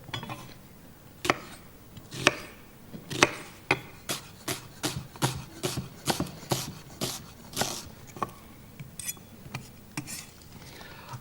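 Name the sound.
knife chopping onions finely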